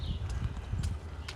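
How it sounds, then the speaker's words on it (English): Footsteps of someone walking outdoors on a path in South Wascana Centre, Regina, in early April, with several close, dull, irregular steps over a low rumbling background. "Someone's following me. I can hear the footsteps."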